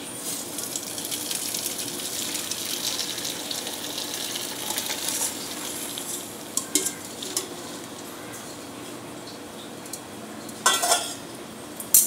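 Water hisses and trickles steadily as it drains from a cooking pan of boiled cluster beans, with a few brief metallic clinks of the pan near the end.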